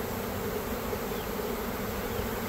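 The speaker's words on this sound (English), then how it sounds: "Trying to be careful not to smash any bees if I can help it." A swarm of honey bees buzzes close by during a hive relocation, a dense, continuous droning hum that stays level throughout with no voices.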